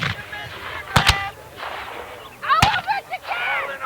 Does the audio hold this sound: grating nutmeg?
no